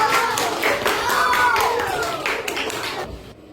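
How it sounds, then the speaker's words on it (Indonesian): A classroom full of people clapping steadily for a few seconds, loud and dense, with scattered voices mixed in, fading out near the end. "Kasih tepuk tangan dong kelompok 2."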